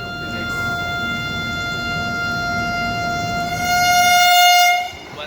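A Vande Bharat express train passes a railway crossing in Tamil Nadu, sounding a long, steady two-tone horn that holds loud over the rumble of the train, swells near the end, then cuts off.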